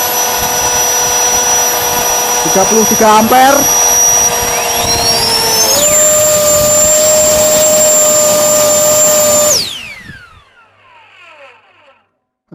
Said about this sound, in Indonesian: Jet fan non-brand saya nyalakan.